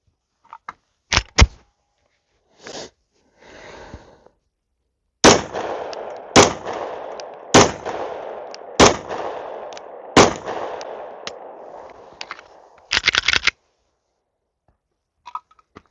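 Five shots from a Glock 43x with a Dagger micro-ported slide firing 115 grain ball ammunition, sharp loud cracks at a steady pace, each with a short ringing tail, preceded by a few handling clicks and rustles.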